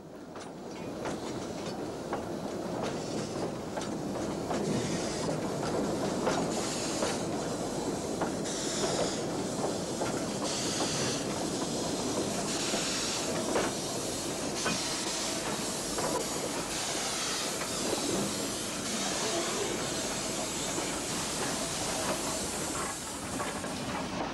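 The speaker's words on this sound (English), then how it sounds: "that from Regior comes in fast at the other end of the low platform" A train running on the Corgo railway line in Portugal, sounding as a continuous loud rolling rumble with hissing and rhythmic clickety-clack of wheels over rail joints, close by and alone without speech.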